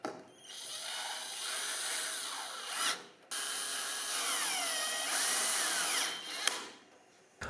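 A power drill drives wood screws to fix a control panel mount onto a jet motorcycle frame, two long whirring bursts with rising and falling pitch and a short break between them, close and loud, no talk.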